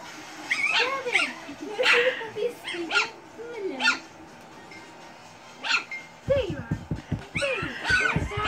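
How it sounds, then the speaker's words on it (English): Tinkerbell's puppies yip and whimper in a string of high, thin cries close by, with a few sharper yelps and a brief patch of scuffling near the end. "Fun time with the puppies."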